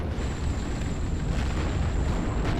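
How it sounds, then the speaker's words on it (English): A tank fuel explosion destroys an M10 in the WWII strategy game Steel Division: Normandy 44, a dense, sustained rumbling blast filling the short clip at steady loudness, with a thin high whine running across it. "Fuel explosion, M10 destroyed, lovely."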